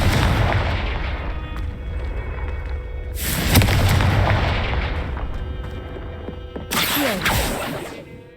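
A Confringo fire spell blasts in Hogwarts Legacy, with sharp booming bursts at about 3 and 7 seconds over a steady backdrop of game ambience and music.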